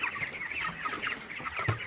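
Broiler chickens about 23 days old cluck softly at feeding time, a faint, continuous patter of overlapping clucks from several birds with no talking.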